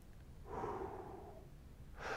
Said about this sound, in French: On va respirer.